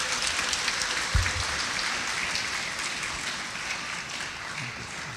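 Soft, rain-like applause from a gathering in Toronto follows a Bhagavad Gita class and stays fairly even and moderately distant for about five seconds, with no clear speech.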